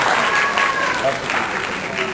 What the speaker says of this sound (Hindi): तालियां बजा के आप लोग बैठे